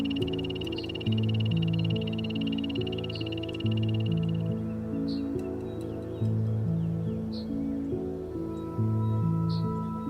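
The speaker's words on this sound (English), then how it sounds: "Concealed beneath layers of moist, decaying leaves in Colombia's Pacific Choco rainforest is the poison dart frog." Poison dart frog calling from moist leaf litter in Colombia's Pacific Choco rainforest, a loud steady rhythmic chorus of repeated pulsing calls over a continuous background of other insect and forest sound.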